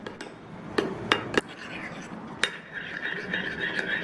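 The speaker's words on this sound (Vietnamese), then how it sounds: "bây giờ chúng ta sẽ trộn đều cái hỗn hợp này lên" A utensil stirs seafood spring roll filling in a bowl, with sharp clinks against the bowl at irregular intervals over soft scraping and a faint background hum.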